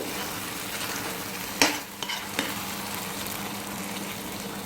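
Tomato masala for fish biryani being stirred in a pan on the stove, a steady soft sizzle running throughout with a few brief scraping clicks from the spoon near the middle.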